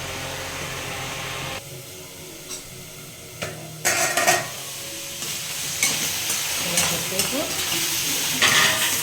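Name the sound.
peanuts being dry-roasted and stirred in a pan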